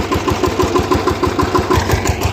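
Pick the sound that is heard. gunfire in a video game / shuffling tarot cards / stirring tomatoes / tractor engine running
tractor engine running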